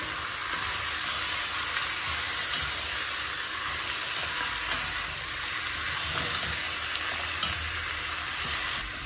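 Pork adobo sizzles and hisses steadily in a frying pan while a utensil stirs it, a loud, continuous frying noise up close, with faint scraping touches and no voices.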